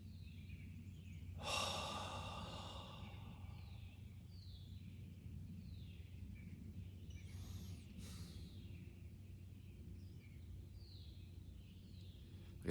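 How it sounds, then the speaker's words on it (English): One slow, deep inhale and exhale of breath near the microphone against an outdoor background of soft bird calls and steady low ambient hum. "let's take a real deep breath"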